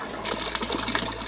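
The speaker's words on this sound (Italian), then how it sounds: "Questo che sentite è il suono dell'acqua nella fontana" Water runs and splashes steadily in a village fountain in the Aosta Valley, a close continuous gurgling flow with a low hum underneath.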